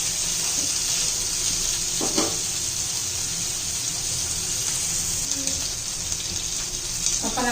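Wam fish frying in oil in a pan, a loud continuous near sizzle with a few clinks of utensils over the hiss.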